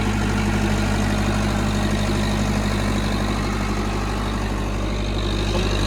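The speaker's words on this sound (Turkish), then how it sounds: "Böyle çok kısa bir motor sesi dinletelim size." A diesel generator engine producing about 50 kVA runs steadily at idle, a loud constant low rumble and drone throughout with no variation or speech.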